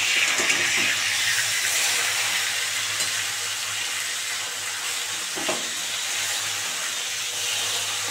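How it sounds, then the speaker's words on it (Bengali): Pieces frying crisp in hot oil in a pan for a festive Bengali doi-bhola dish give a continuous moderate sizzle with faint occasional stirring clicks and no talk. "এগুলোও ভেজে নেবো ভালো করে"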